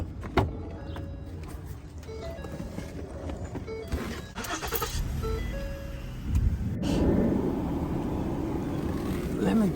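A car engine starting up and idling, a low steady hum that swells into a stronger rumble partway through, heard from inside the vehicle.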